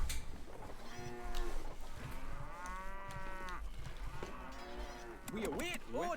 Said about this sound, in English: So many cow noises.